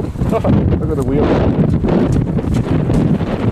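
Strong, cold wind blows hard across the microphone outdoors beside a broken-down Ford truck on a rainy farm, a loud continuous roaring buffet. Someone speaks briefly over it.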